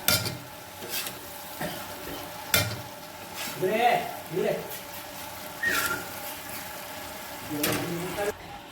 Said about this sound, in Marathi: आता मी ह्याच्यात टाकायला लागले तेल पण आलं आहे त्याला